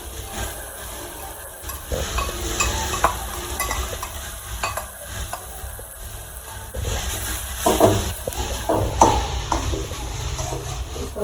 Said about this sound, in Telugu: స్లోగా కలుపుకుంటూ మనం ఇలా దీన్ని స్లోగా బాగా కలుపుకోవాలి